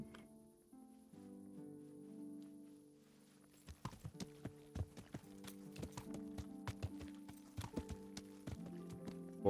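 Horse hooves clip-clop in a steady rhythm, entering after a quiet musical opening and continuing as sharp, close knocks over a soft tonal backing.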